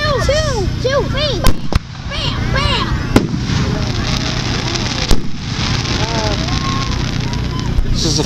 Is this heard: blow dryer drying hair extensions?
no